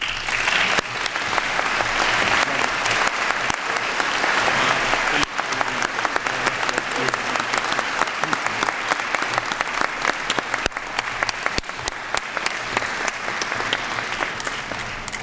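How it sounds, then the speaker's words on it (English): An audience at an Ohio Wesleyan University celebration claps loudly and steadily, a dense, sustained round of applause from a full room that continues for the whole stretch. "we applaud and thank Robert W. Gillespie for his long-standing and dedicated service to Ohio Wesleyan"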